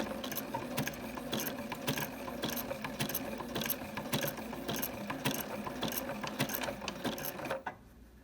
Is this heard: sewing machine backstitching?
yes